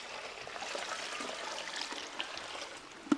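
A thin stream of water runs into a small cup, a soft continuous trickle with faint splashes. A sharper clink comes near the end, and no one speaks.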